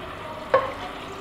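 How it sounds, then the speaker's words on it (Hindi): Garlic and ginger paste frying in a pan for beef nihari, giving a steady low sizzle with one short scrape of a spoon partway through. "इसको हम तकरीबन 2 मिनट के लिए अच्छी तरह से भून लेंगे"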